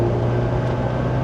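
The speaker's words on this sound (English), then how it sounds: "you have to say the Italians managed to make even a humble 4-cylinder sound so exotic" The four-cylinder twin cam engine of a classic Alfa Romeo Alfetta hums steadily from inside the car while it drives, a loud, even drone.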